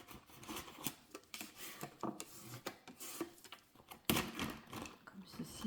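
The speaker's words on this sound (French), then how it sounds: "On viendra découper le papier déco." Scissors snip through decorative paper for an Easter card, a run of short crisp cuts and rustles close by, with a quiet voice in the background.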